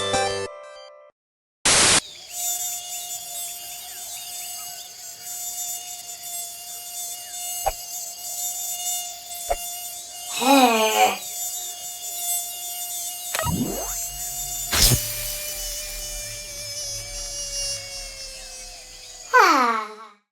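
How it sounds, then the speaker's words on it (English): Insects buzzing in a tropical jungle scene of an educational video game, a thin, steady whine held close and loud throughout, broken by sharp synthetic clicks, zips and chirps. "There are many hungry insects in the tropical jungle."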